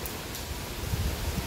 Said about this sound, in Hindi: अब काफ़ी तेज़ है, बारिश